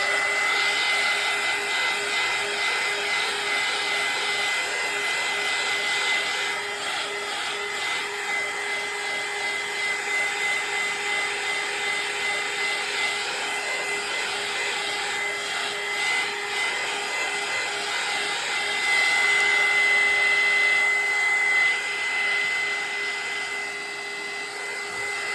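A hair dryer blows steadily to dry gesso on a Christmas-themed grungy craft journal, producing a continuous close, loud whooshing hum with a faint high whine, running alone throughout.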